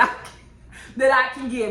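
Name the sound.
dogs barking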